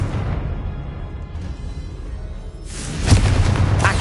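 A Confringo fire spell explodes in the Hogwarts Legacy video game, a loud rumbling boom that swells out of a low roar and crackles brightly near the end, with no voices.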